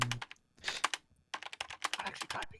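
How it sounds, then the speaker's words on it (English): Computer keyboard typing in quick bursts of clattering keystrokes, close and fairly quiet, with a short pause midway before the tapping resumes. "I'm typing to seem like I'm doing something"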